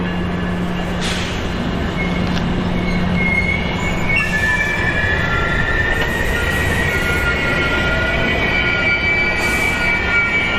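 A Manassas Line commuter train hauling Nippon Sharyo gallery cars rumbles past close by with steady rolling noise, while metal wheels squeal in long, high, wavering tones.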